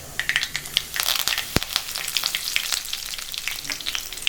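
Hot oil sizzles steadily with sharp, rapid popping and crackling, close by, as mustard seeds and curry leaves splutter in the pan.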